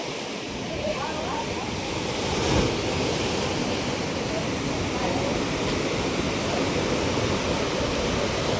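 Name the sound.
sea waves behind the room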